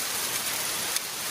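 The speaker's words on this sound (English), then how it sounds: "It just started torrential downpour again." Torrential rain drums steadily on the roof and surroundings of a car at a wild campsite, a dense, loud, even hiss with no pauses and no voices.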